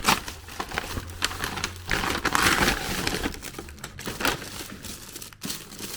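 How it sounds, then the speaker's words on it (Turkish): Crinkling and tearing of plastic or paper wrapping as an overseas parcel is opened, with steady rustling throughout and a few sharper rips, close by with no talk. "İçindekine zarar vermeden açalım."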